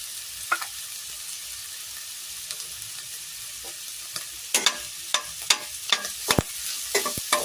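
Garlic sizzling in a pan for sauteed mung beans, a faint frying hiss broken by sharp stirring scrapes and clinks that grow busier and louder in the second half, with no talk.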